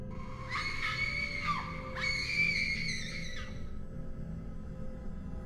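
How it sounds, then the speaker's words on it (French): Two girls scream in high, piercing wails, two long cries back to back with a brief break, heard over a low steady background hum, then they fade out. "Un autre soir, les deux sœurs ont brusquement commencé à hurler."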